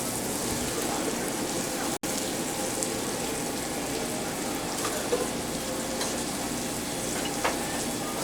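Swordfish pan-searing in a hot pan gives a steady, loud sizzle and crackle throughout, with a brief dropout partway through.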